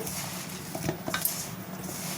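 Soft wet stirring of gram flour batter with water in a bowl, with a few light clinks of a utensil against the side, brief and close.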